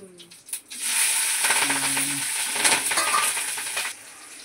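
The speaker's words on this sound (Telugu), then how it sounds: "పచ్చిపులుసు పోపు పెడుతున్నా" Spices for pachi pulusu tempering sizzle in hot oil, a bright steady hiss lasting a few seconds with faint clinks of a pan, then fading.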